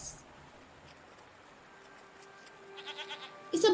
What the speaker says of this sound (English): It's a bighorn sheep